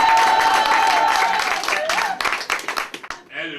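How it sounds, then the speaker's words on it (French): Wedding guests applaud during a French civil marriage ceremony with short bursts of clapping. The clapping is mixed with overlapping voices and tonal sound, then thins out toward the end. "Applaudissez."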